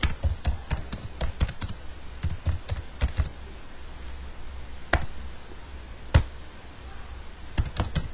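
Keys on a computer keyboard are struck in uneven bursts, with single clicks and quick runs separated by short pauses, close and crisp in a quiet room.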